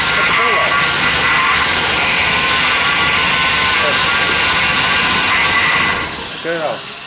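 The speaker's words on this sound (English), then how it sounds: "it sounds like your power steering pump" A junkyard engine fitted with a Holley Terminator X runs loud and steady up close, its whining power steering pump riding over the roar until the noise drops away near the end.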